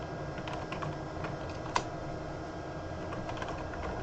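A password being entered on a computer keyboard: quiet, irregular clicks of individual keystrokes over a faint background hiss, with one sharper, louder key press partway through.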